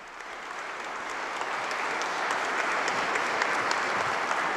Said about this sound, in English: in the Aula della Benedizione, applauding the discourse of His Holiness Pope Francis